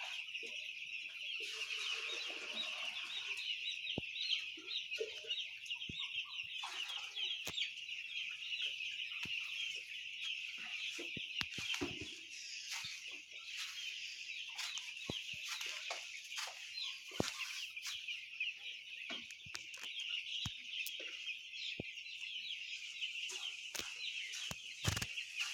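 A flock of poultry chickens clucks and murmurs at a farm. Many soft, scattered clucks carry over a steady high-pitched background hiss, fairly faint and at a moderate distance.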